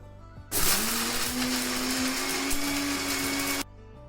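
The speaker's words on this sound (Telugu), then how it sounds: "అల్లం ముక్కలు బెల్లం మిక్సీ పట్టుకుందాం పేస్ట్ లాగా రావాలి" A mixer grinder whirs loudly for about three seconds grinding ginger and jaggery into a paste, starting and stopping abruptly, with a steady high-pitched motor whine.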